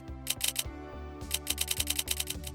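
Keyboard typing effect from the Opera GX browser mods: bursts of crisp, rapid clicky keystrokes in quick rhythmic runs over a low musical background tone, no speech.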